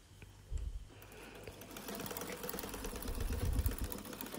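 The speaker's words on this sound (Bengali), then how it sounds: "তারপর সেলাই করতে শুরু করলাম" Stitching a lungi, a sewing machine starts up after a brief quiet moment and settles into a soft, continuous mechanical whir, fairly faint and heard alone.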